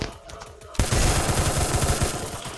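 Rapid automatic gunfire in the mobile shooter Free Fire, starting abruptly after a short quieter moment and continuing loud and close as a dense burst to the end.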